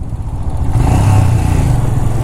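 A motorcycle freshly fitted with a replacement engine runs steadily and loudly close by, with a continuous low rumble and slight revving, before a long ride toward Ladakh.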